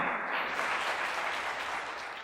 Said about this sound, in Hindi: जोरदार तालियां बजाएं यीशु के जलाल के लिए।